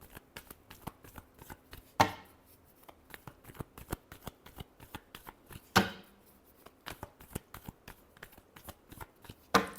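Tarot cards are shuffled by hand in quick, close, papery riffles and taps, with sharper slaps at a few points between the softer runs.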